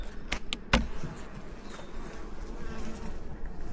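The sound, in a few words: bees at beehive boxes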